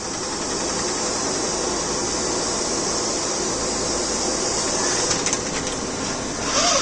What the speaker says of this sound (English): That's the vacuum turning on.